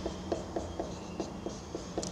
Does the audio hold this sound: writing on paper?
yes